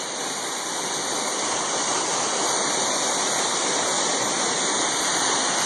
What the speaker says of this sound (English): Seneca Creek Falls, I think is what it is.